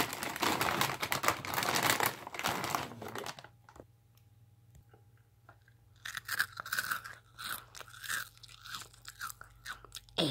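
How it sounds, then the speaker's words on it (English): Crunchy cereal being chewed up close, a cluster of dry, crisp bites at the start, then a quiet pause, then more irregular munching crunches, with no talking. "Sorry, I must eat my cereal first."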